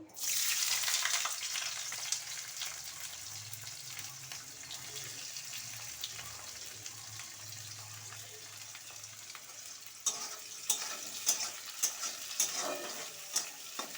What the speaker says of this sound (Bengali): এবার বেরেস্তা ভাজার জন্য দিয়ে দেবো